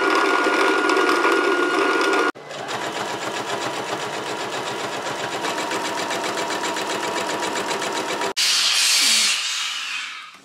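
Sewing machine stitching fabric pieces right sides together for a dress, a steady close mechanical whirring rattle running in long continuous stretches, broken by short stops and a hissing shift near the end.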